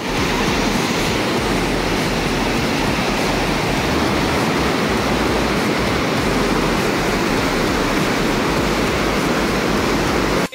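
Water pours through the gates of the Sriram Sagar dam in a loud, steady, roaring rush that stays constant throughout.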